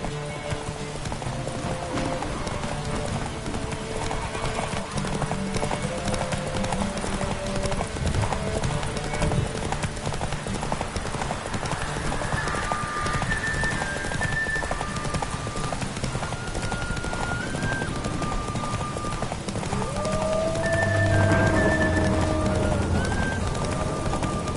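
Roach the horse galloping in the video game Witcher 3, a continuous rhythmic clip-clop of hooves with a brief whinny near the end and some faint voice.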